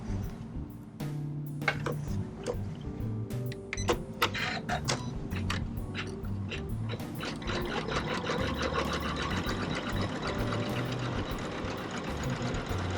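An embroidery machine stitches appliqué in the hoop, producing a quiet, rapid run of mechanical ticks and clicks with a low motor hum underneath, fairly close and with no talk.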